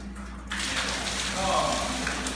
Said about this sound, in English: Water's already dripping.